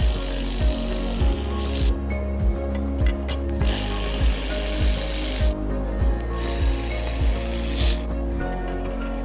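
An air-cooled laser welding machine welding thick aluminum gives a loud, continuous hiss and buzz with a rapid pulsing rhythm, rising and dropping in bursts of a few seconds each, close up with no talking.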